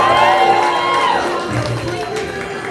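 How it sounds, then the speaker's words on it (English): An open mic poetry audience cheers for a poet, with loud, sustained whoops and yells rising from the crowd and blending with raised voices throughout. "Y'all make some noise for the poet one time."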